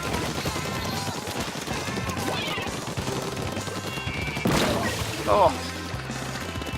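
A suction bomb bursts in a sudden, noisy blast amid busy Splatoon 2 gameplay sounds and music, and a person gives a brief startled exclamation.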